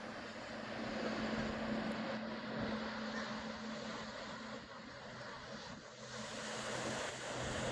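Waves wash in at a beach as a broad, steady roar of surf with gentle swells in loudness, moderately distant, under a low droning hum.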